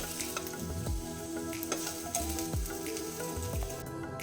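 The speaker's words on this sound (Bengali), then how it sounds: "হলুদ দিয়ে মিশিয়ে বেগুনটাকে হালকা করে ভেজে নেব" Eggplant pieces fry lightly with turmeric in a pan, a close, continuous crackling sizzle with repeated soft stirring knocks at a regular pace.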